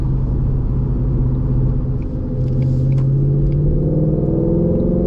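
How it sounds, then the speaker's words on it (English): Deep, steady exhaust rumble from a 2020 Ford Mustang GT V8 with a Borla S-Type cat-back exhaust, loud and close, with the engine tone rising slightly toward the end. "you can hear some exhaust back there"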